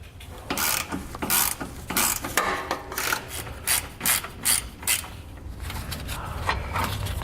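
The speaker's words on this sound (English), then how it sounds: "we're going to want to grab another 12mm socket and pull it out" A ratchet with a 12mm socket backing out a bolt on a 2016 Infiniti QX50 during a trailer hitch install, rapid metallic clicking in quick close bursts with short breaks between strokes, no talking.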